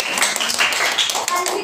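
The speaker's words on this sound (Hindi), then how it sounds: "इनके लिए ताली बजाए जोर से एक बार" Schoolchildren clap together for a classmate after a Saturday arts activity, a dense burst of applause that runs steadily and fairly loud through the whole moment with no break.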